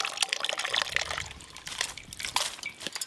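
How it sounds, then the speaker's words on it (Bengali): Cold water is poured over freshly boiled chow mein noodles, a close, continuous splashing trickle with small spattering bursts throughout. "চাউমিন নামাবার পর কিন্তু একটু ঠান্ডা জল দিয়ে দেবেন"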